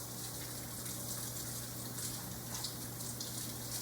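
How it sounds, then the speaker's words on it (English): Water runs steadily from a tap as soapy hands are rinsed under it in a home kitchen, a constant gushing hiss with no pauses, fairly faint and without talk. "stick them back into the water and wash all that soap off"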